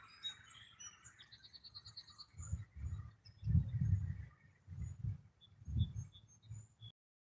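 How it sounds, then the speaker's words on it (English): Birds chirp in repeated short bursts at close range, with a soft low rustling rising and falling beneath the calls. "Hearing the chirping of the birds"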